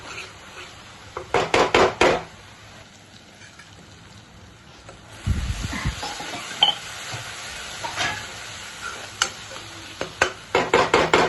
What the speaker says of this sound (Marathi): त्यामुळं तेल सुटेपर्यंत ह्या टॅमॅटोला कांद्यासोबत छान परतवून घ्या.